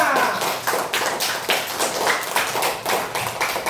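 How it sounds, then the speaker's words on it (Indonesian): Students in a classroom clap together in a fairly regular rhythm, a group of sharp, close claps repeating steadily with almost no talking underneath. "Tepuk tangan semuanya."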